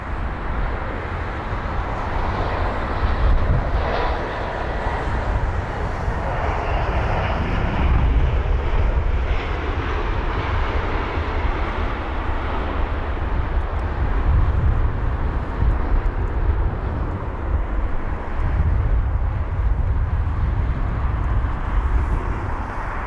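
An Airbus A319 airliner, 23 years old, lands at London Heathrow with a steady, loud broadband engine roar that holds for the whole stretch, with some wind rumble and no talk.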